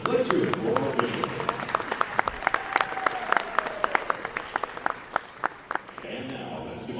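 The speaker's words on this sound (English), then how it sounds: "let's hear it for our officials" A basketball crowd applauds the officials at a university women's game, a lively round of scattered sharp claps in a large gym that tapers off as a voice resumes over the PA.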